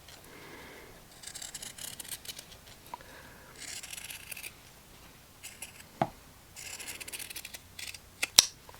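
Scissors trim fabric on a Dresden quilt block in repeated short bursts of crisp snipping and rasping cuts, close and fairly quiet, with a couple of sharp clicks near the end.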